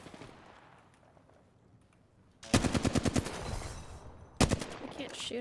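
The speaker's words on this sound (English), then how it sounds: "Getting shot at." Rapid automatic gunfire in a video game shooter, two sudden fast bursts of shots cutting through a quiet stretch, loud and close.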